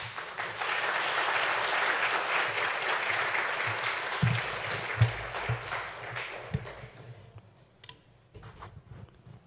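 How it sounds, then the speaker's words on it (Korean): Applause from a church congregation welcoming a pastor fills the first several seconds, a dense wash of clapping that fades out, leaving a few scattered claps and taps near the end. "나오실 때 우리 환영의 의미로 박수하도록 하겠습니다."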